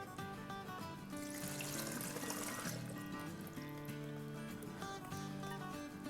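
Water poured into the bottom of a cooking pot while making a mango dessert, a faint steady trickling pour under low background tones.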